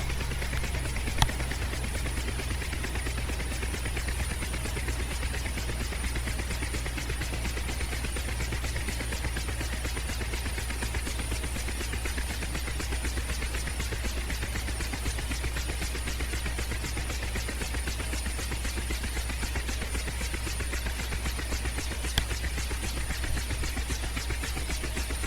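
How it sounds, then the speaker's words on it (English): A Mi-8 helicopter running in the DCS World flight game, a steady, dense rotor and turbine drone with fast blade chop, loud and unbroken throughout. "once CajunJosh is able to get the Mi-8 up and running"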